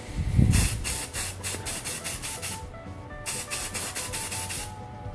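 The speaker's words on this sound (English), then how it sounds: "I'm going to go ahead and coat the knife with a spray paint." Short bursts of spray paint hiss from a can onto a knife blank, repeated in quick rhythmic pulses with a brief pause midway, close and fairly loud.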